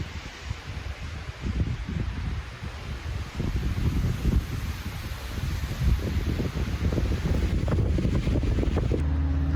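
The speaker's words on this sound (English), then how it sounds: "It's still pretty windy." Wind blows outdoors at a homestead cabin build near Sandpoint, Idaho, as a steady, low, buffeting rumble across the microphone that swells slightly in the second half, with no voices.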